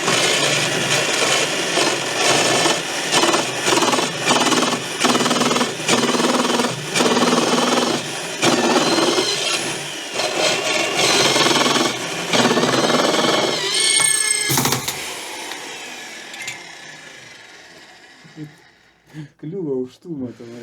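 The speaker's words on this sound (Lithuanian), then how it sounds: "Ir bandysim toliau grąžti." A cone drill bit, freshly resharpened with an angle grinder, bores into material in a garage, giving loud, rough rhythmic grinding bursts for about fifteen seconds before the noise thins and trails off.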